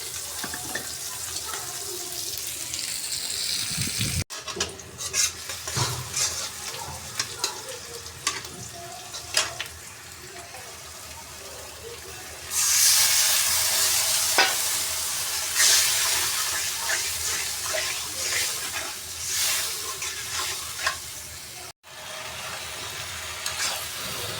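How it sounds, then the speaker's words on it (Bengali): Continuous crackling sizzle of Malabar spinach and lentil fritters frying in hot oil, with occasional stirring clicks and a stretch of louder hissing midway. "পুঁই শাকের পাকড়াগুলো ভাজা হয়ে গেছে বড়া"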